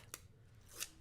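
Scissors cut foam tape for card making in two quick, faint snips under a low background hum.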